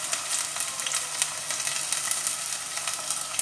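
Ginger sizzles in hot oil in a pan already holding onion, salt and green chilli, for a Mangalorean silver fish pulimunchi; a steady, close, bright hiss runs throughout with faint crackles and no voices.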